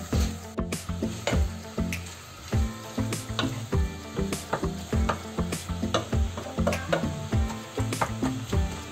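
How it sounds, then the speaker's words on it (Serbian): Minced meat fries in a pan, with a continuous sizzle broken by repeated sharp scrapes and clacks of a utensil stirring against the pan in an uneven rhythm, close up and with no voices. "Ispražite mleveno meso, kao što to obično radite za sve drugo"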